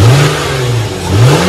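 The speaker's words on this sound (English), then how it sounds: "Give it a few revs so y'all can hear what it sounds like" A Lexus GS300 engine fitted with an aftermarket cold air intake revs up close and loud, pitch sweeping down and then climbing again in a throaty rise.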